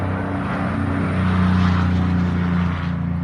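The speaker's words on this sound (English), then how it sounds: "that truck was really loud" A loud truck rumbles steadily past a Zone 6B home garden in February, a heavy engine roar holding through the whole stretch with no talk.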